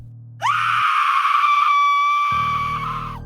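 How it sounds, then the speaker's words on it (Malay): A long, shrill sustained scream rings out loud and alone for nearly three seconds, set in a horror audio story, with low rumbling ambience before and after it. "Jeritan nyaring bergema dari arah tangga belakang."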